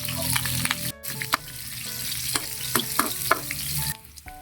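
Garlic and ginger fry in hot oil, giving a loud, steady sizzle broken by sharp scrapes and clacks of a spatula stirring in the pan, with a brief drop in the sizzle near the start and again at the end.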